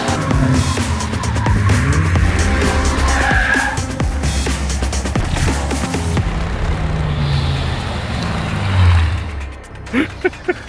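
A sports car drifts with tires skidding and squealing over a loud, sustained engine roar, close and continuous for most of the stretch before fading near the end, with faint voices in the background.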